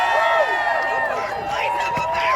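A Philadelphia rally crowd at a No Kings protest cheers and shouts, a loud, continuous roar of many voices with whoops rising over it.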